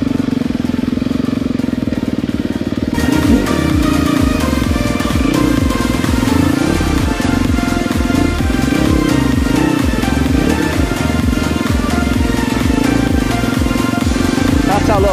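An enduro motorcycle ridden off-road through woods, its engine droning steadily and close, with rising and falling revs as the rider works the throttle and someone talking over it.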